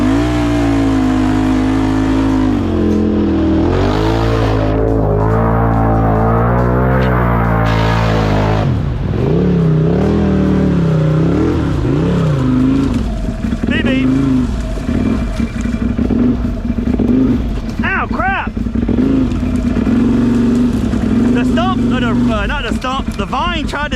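A Can-Am Outlander ATV engine revs and labours loudly in four-wheel drive while churning through mud, its pitch rising and falling continuously over about 24 seconds, with speech from the rider partly mixed in.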